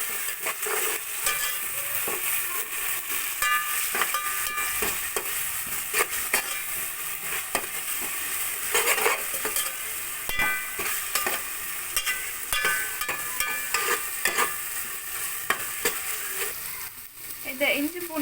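Ginger garlic paste fries in a pan for a mushroom biryani, giving a continuous close sizzle broken by repeated scraping stirs of a spoon against the pan throughout.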